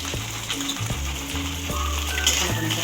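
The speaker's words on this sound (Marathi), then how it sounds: "आपण आता फ्राय करून घ्यायचं." Finely chopped onion frying in oil, a continuous close sizzle with occasional spoon stirs and taps against the pan, no voices.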